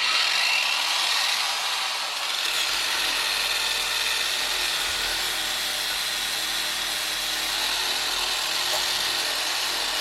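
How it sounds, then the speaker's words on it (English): Eastwood SCT power tool with a wire brush attachment scrubbing metal on a Mercedes W109/W108 steering box mount, a continuous loud abrasive whirring and scraping that holds steady for the whole stretch. "what I'm going to use is that Eastwood thing, you know, the SCT with a wire brush attachment"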